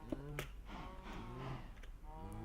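Minecraft cows lowing inside a cow-breeding farm, several drawn-out moos overlapping in quick succession, close and fairly loud with no talking.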